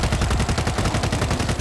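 Rapid automatic gunfire in the zombie shooter game World War Z, a dense unbroken burst of shots that fills the short stretch at steady loudness.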